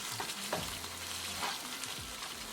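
Mashed eggplant mixture for baingan bharta stirred in a hot pan over medium-low gas, a close sizzle with scraping stirring strokes and soft thuds repeating a few times.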